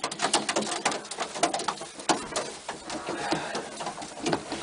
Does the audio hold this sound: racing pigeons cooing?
yes